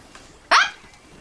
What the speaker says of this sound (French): Je sais pas qu'on avait un petit chien